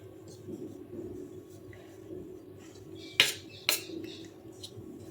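A neem-jaggery mixture with neem flowers stirred in. Soft mixing sounds are topped by two sharp, close metallic clinks of a spoon against the vessel about half a second apart.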